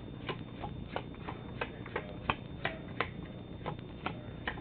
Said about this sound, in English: They just deal, like it sounds, 4 piles out onto your table.